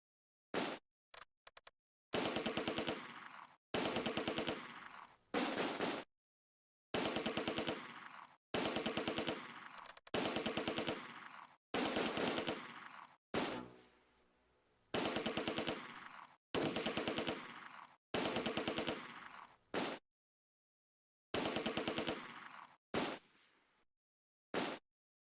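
Machine guns rattle in long, loud bursts during a World War II battle for Nijmegen in the Close Combat game, rapid chattering volleys separated by brief silences, with occasional single shots and no talking.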